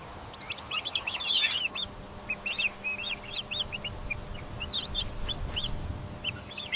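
A turkey poult on a farm gives a run of faint, high, repeated peeping chirps in quick irregular bursts, with low rustling noise underneath.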